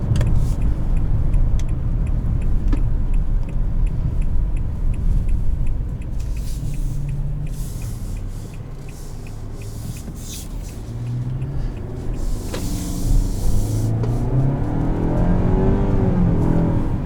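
A 2020 Nissan Altima 2.5 SR with a four-cylinder engine drives through curves, its steady engine hum and road rumble filling the cabin and rising slightly toward the end as it accelerates.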